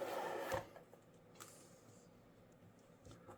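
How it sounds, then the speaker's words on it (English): A sewing machine stitches a phone bag in a brief, fairly loud whirring burst at the start, then quieter mechanical clicks and creaks continue after it stops. "So look how fast and easy one can stitch with this method."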